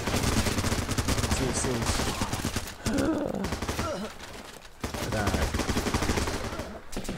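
Rapid bursts of gunfire from the war game Running with Rifles hammer away almost continuously, loud and dense, with two brief pauses. Someone speaks briefly over the shooting.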